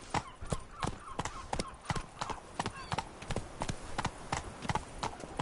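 Hooves of Roach, Geralt's horse in The Witcher 3: Wild Hunt, clip-clopping in a brisk, steady rhythm of sharp close hoofbeats throughout.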